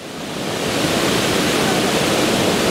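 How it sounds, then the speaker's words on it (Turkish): Boylat waterfall roars with rushing water, a loud, dense, steady hiss that swells slightly at the start and then holds, close and unbroken. "işte arkamda meşhur Boylat Şelalesi"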